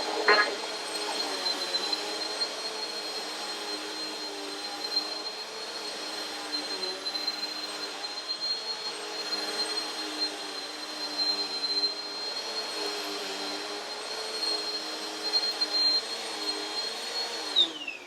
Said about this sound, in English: You can hear that powerful suction.